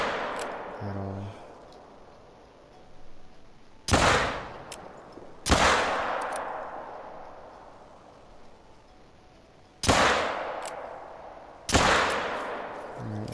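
Four spaced hunting rifle shots aimed at a red deer in a hunting video game. Each crack is sharp and loud, with a long echoing decay over quiet outdoor ambience.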